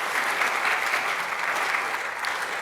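A crowd at a university Bull Ring event gives a round of applause for mentors, a steady dense wash of clapping at moderate loudness, sustained without pause throughout.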